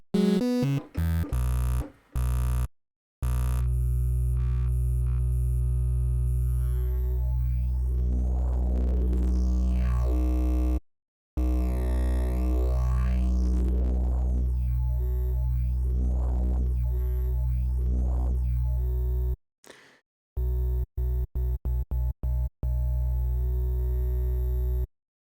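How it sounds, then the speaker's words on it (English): A synthesizer sine wave shaped with wavetables forms a cinematic riser, with sustained droning tones, sweeping swells and stuttering gated chops that cut in and out, heard alone. "We'll start with a basic sine wave, but we're going to put some of my weird little wave tables in there."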